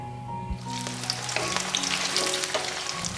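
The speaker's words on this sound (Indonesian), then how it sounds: "Kemudian aduk-aduk dan bawangnya akan kita goreng sampai setengah kering ya." Sliced shallots and garlic sizzle steadily in a hot pan of oil, with a spatula scraping and stirring now and then over the constant crackle, heard up close without speech.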